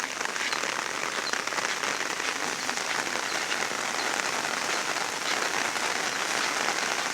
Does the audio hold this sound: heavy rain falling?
yes